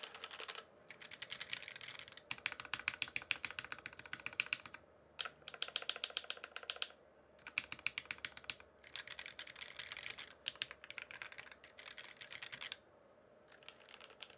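Continuous typing on a Monstargear XO87 mechanical keyboard with a brass plate and JWK Lavender switches, bursts of rapid close clacks separated by short pauses, with no voices.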